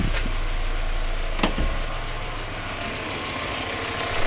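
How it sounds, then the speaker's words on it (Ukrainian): A VAZ 21010 car engine idles with a steady, even rumble just after starting, close by, with a brief faint click partway through and no talking. "Машинка завелась, все потухло і йдемо слухати"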